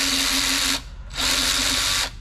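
Power tool spinning a bolt out of a Subaru Forester during a head gasket job, two loud sustained whirring bursts separated by a short pause, no talk.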